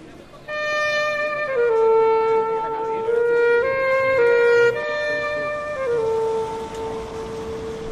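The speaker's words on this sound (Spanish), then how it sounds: "Este tema lo hace a solo primero, el saxo alto, y suena así." An alto saxophone plays a solo Semana Santa march theme alone: slow, sustained melodic notes that step between pitches, clear and fairly close.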